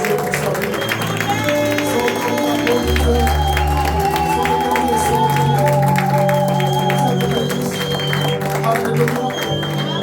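A church congregation applauds and cheers in praise for a preacher, sustained clapping and shouts filling the room with voices and a musical drone underneath.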